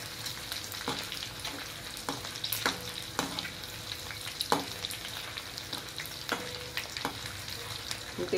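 Dried Bombay duck fish dry-roasting in a pan gives a steady soft crackle and sizzle, broken by sharp clicks and scrapes as the pieces are stirred every second or so, close by with no talk.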